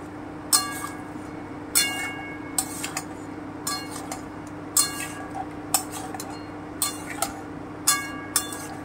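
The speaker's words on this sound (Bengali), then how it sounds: "এবারে আমি আলুগুলো দিয়ে দিচ্ছি।" Potatoes go into a pan of onion, tomato and green chilli paste, with a metal spoon clinking against the pan in sharp, repeated knocks about once a second over a low steady hum.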